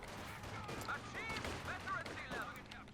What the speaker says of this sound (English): Conscripts opening fire on them